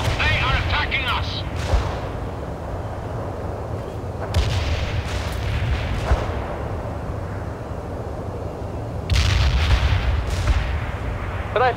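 Incoming gunfire and artillery in the video game World in Conflict boom and crackle in repeated bursts over a low rumbling battlefield din, with louder volleys near the start, middle and end.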